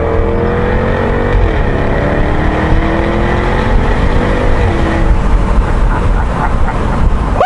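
A Jaguar Project 7 engine drops down into third gear, its steady loud drone stepping in pitch as the revs shift, then rising sharply at the very end, with no talking.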